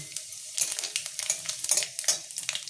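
Dried chili, bay leaf and five-spice frying in hot mustard oil, a crisp close crackling sizzle with quick pops and a few light spoon stirs.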